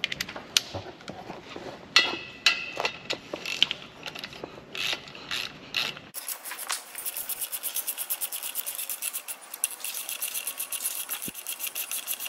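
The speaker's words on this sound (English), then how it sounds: "Now just tighten these to 55 foot-pounds." A ratchet wrench tightens 12 mm prop shaft bolts on an Audi RS3 or TT RS to 55 foot-pounds, first with scattered clicks and clunks, then a long run of rapid, close, steady ratcheting clicks.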